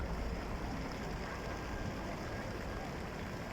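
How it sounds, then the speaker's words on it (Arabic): A fountain splashes steadily in the plaza of a Riyadh metro station. The water makes a constant broadband wash with faint wind noise and no talking. "تسمع الصوت وتغمض عينيك مع صوت النافورة الجميل"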